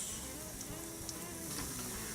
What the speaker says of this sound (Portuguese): Vamos fritar os nossos bolinhos.